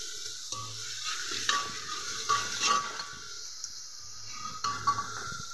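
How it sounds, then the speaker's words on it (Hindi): Ingredients for a green pea dish are stirred in a pan, with repeated scraping strokes of a utensil over a steady sizzle of frying; no one talks. "इन सभी को अच्छे से मिक्स कर लेना है।"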